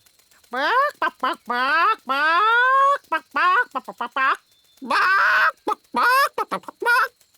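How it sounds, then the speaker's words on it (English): Cartoon chicken clucking in a children's animated show, a rapid run of squawky, voice-like clucks and bursts in several quick phrases, loud and close. "there's our chicken."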